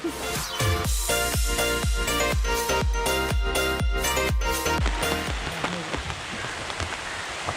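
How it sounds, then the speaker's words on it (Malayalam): Heavy rain falls at a backwater boating spot near Poovar Island, a dense loud pattering mixed with rhythmic thumping knocks that fade toward the end. "മഴ തുടങ്ങിയിട്ടുണ്ട്. നേരത്തെ കണ്ട കാർമേഘങ്ങൾ മഴയായിട്ടുണ്ട്."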